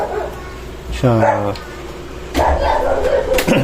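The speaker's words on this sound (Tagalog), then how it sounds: "ingay ng aso dito" A dog barks and yips a few times nearby, with a whining, drawn-out bark, while a person talks over it.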